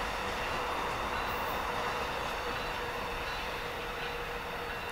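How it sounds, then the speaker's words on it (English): An AEM-7 electric locomotive train on the Keystone Line rolls past close by, a loud continuous rumble of wheels and cars with faint squeal, steady throughout. "that's the AEM-7 number 914"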